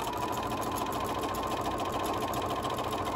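A sewing machine runs steadily, chain-piecing quilt panel pieces together, its fast needle chatter close and even throughout with no talking.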